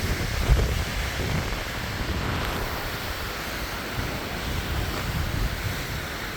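Wind blowing hard at a mountain camp before a blizzard, a steady loud roar with gusting buffeting against the microphone, continuous throughout.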